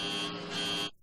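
Boeing 747 cabin altitude warning alarm: a steady, loud electronic buzzing tone with a bright, fixed pitch that holds for about a second and then cuts off abruptly.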